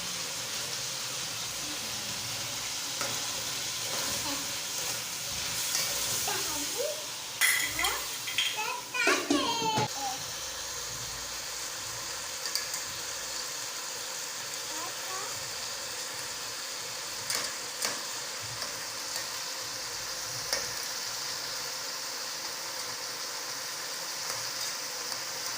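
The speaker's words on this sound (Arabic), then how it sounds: "عم تحرك الاكل؟" Food being stirred in a pot of Syrian rice with fava beans, a steady sizzle and faint scraping continuing throughout with a few brief clinks, while a child and an adult speak quietly in a kitchen.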